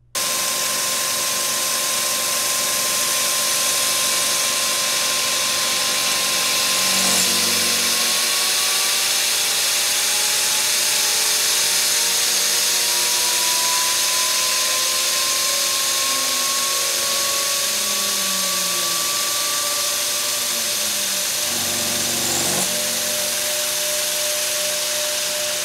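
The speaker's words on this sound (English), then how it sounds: "The end mill transits around the perimeter of the waste that we've removed, removing the last 15 thousandths and giving us a nice clean finish." An end mill makes a finishing pass around clock gear spokes, a loud continuous machining whine with shifting tones and a steady motor hum throughout, no voices.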